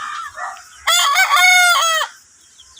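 A young red stag rooster crows once behind a house, a loud close cock-a-doodle-doo lasting about a second with no talk over it.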